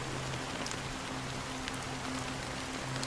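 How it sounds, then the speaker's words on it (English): Rain falls steadily in the game Honkai Star Rail, a dense, even hiss of drops with a faint low hum running beneath it. "it's still raining."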